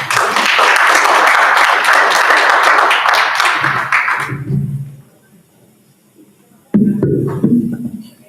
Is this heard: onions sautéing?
no